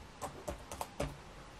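A search is typed on a computer keyboard as five quick, quiet key taps in an uneven rhythm, close and alone.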